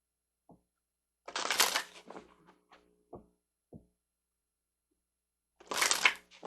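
Tarot cards handled and shuffled close up in a quiet room, two bursts of brisk riffling with a few soft taps and thumps between them.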